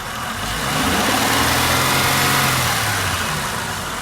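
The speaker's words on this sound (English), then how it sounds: "turned it on, revved it up using the throttle body right here." A hot car engine is revved by hand at the throttle body, swelling from idle into a sustained roar, holding, then easing back down, loud and close with no talk.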